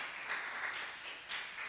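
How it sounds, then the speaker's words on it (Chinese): A church congregation at a Mandarin-language service applauds, a soft, steady patter of clapping that holds at a fairly even, distant-sounding level throughout, with no one speaking over it. "我们给他掌声了。"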